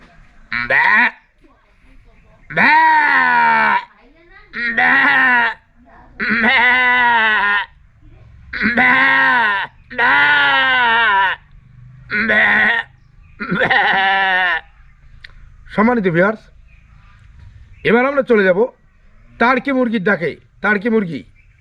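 A voice imitates a goat bleating when rain falls on its head: a long series of loud, wavering, close bleats with short pauses between them.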